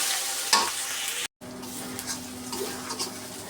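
Hand-ground spice paste for fish curry frying in a pan, a steady soft sizzle with stirring scrapes, briefly cut to silence midway before the frying resumes at the same moderate level.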